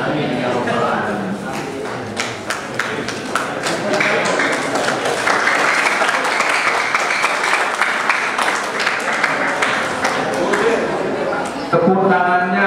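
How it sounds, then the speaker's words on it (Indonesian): Audience applause at a university event in a hall, a sustained, fairly even clatter of many hands lasting around twelve seconds, with voices mixed in and a burst of speech near the end. "Tepuk tangannya setengah hati."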